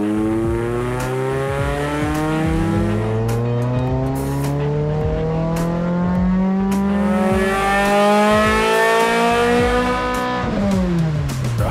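A Toyota MR2 fitted with a Camry engine, revving on a dyno pull: loud, close engine note climbing steadily in pitch through a long sweep, then dropping sharply as the throttle closes near the end.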